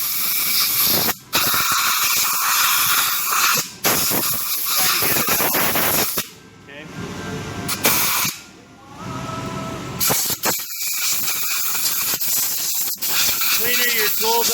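Compressed air blowing debris out of the inside of a die, with loud sharp bursts of hissing broken by short pauses and a quieter stretch in the middle, and someone talking in between.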